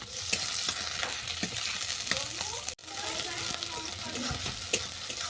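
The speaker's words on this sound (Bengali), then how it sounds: "পেঁয়াজটাকে আমি হালকা করে ভেজে নেব।" Sliced onion sizzles and crackles in hot oil in a pan with dried red chilli, a steady close frying hiss broken by scraping stirs, with a brief pause midway.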